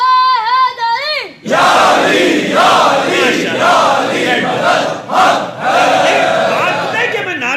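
A large gathered crowd loudly chants a religious slogan in unison at a sermon by Allama Hassan Zafar Naqvi, answering a single high voice that starts the call, with the roar swelling and dipping in waves.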